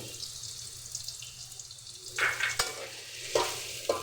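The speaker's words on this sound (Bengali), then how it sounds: "ভাজার জন্য আমি চুলাটার আঁচ একটু কমিয়ে দিব এবং এটার মধ্যে দিয়ে দিব কাঁচামরিচ পালু" Potatoes and green chillies frying in oil for chowmein over a lowered flame, a soft steady sizzle with a few scraping stirs and clinks near the end.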